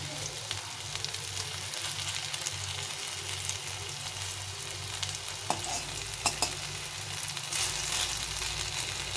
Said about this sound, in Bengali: কোপ্তাগুলো দুই দিকে ভাজা হয়ে গেছে